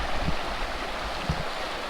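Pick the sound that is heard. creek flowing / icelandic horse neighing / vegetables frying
creek flowing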